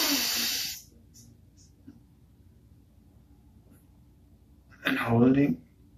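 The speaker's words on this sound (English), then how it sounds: "Breathing in." A slow, audible inhalation during a standing meditation session, a soft breathy draw lasting under a second near the end, following a brief earlier breath sound, with quiet room tone between.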